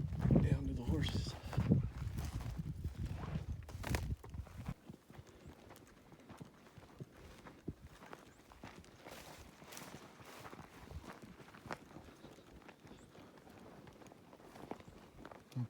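Hooves clop in an irregular walking rhythm, louder and heavier at first, then lighter, with faint speech in the background.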